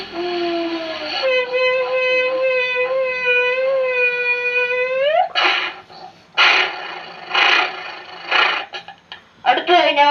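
A voice imitates a bus stopping: a long rising and falling tonal whine like an engine winding down, ending in an upward sweep, then several short hissy bursts like air brakes releasing.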